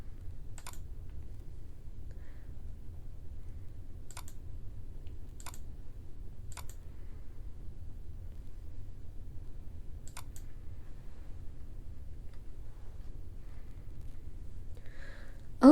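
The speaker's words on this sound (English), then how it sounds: "click on the copy icon next to the distribution domain name" Sparse, sharp computer mouse clicks, about six spread across a quiet room with a low steady hum, each a single crisp tick, alone without talk.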